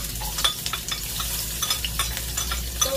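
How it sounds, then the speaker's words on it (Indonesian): Ginger, garlic and shallots sizzle and crackle steadily in leftover frying oil, with short scraping stirs of a spatula across the pan, close and continuous with no talking. "tumis jahe, bawang putih dan bawang merah"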